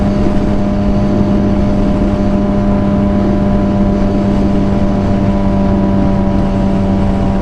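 Suzuki GSXR 750 motorcycle with an aftermarket exhaust pipe and muffler, a loud steady engine drone with a strong low hum, heard close and constant with no talk.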